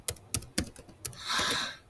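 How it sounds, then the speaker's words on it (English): A handful of crisp key clicks on a computer keyboard, tapped at an irregular pace, followed by a brief soft rustle, close and fairly quiet. "I'm just typing in"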